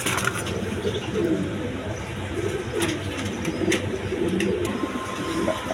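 A pair of big, floor-touching Mundian pigeons, a male and a female, coo softly and repeatedly under a dense, steady background noise, heard close by.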